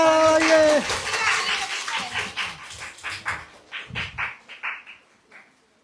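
School children applaud a younger girl who won a pen as a gift. A brief voice opens, then a run of rhythmic hand claps follows and fades gradually to silence.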